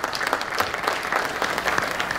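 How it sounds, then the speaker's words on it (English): A conference audience applauds to welcome back a speaker at a session, a short burst of brisk, steady clapping from a medium-sized room. "Let's give him a round of applause."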